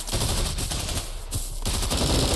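Dense, steady gunfire from the mobile multiplayer shooter Bullet Force, a continuous rattle of automatic shots with no pause or talk, loud and close.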